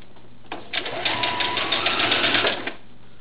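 A sewing machine stitches the arms onto a doll's cloth body in one short, steady burst of rapid close needle chatter lasting about two seconds, starting and stopping cleanly with quiet around it.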